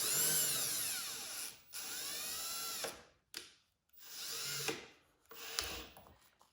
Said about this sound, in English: I know that I can actually go up in size of pilot hole, so now I've got a nice brad point bit.